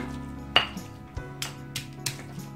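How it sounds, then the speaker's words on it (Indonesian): Shallots pounded and ground in a stone mortar for an Indonesian spiced duck dish, giving irregular clinks and knocks of stone on stone over a low kitchen hum, with no talk. "langsung kita giling bawang merah"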